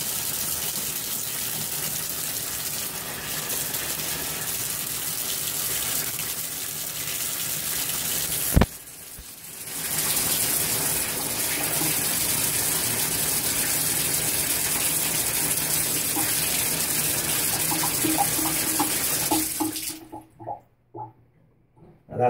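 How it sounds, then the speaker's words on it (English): Water from a bathtub tap runs steadily into a freshly cleared drain, a loud continuous gush lasting about twenty seconds with a brief dip partway through before it cuts off. "let's go ahead and run the water and see if it's draining properly now"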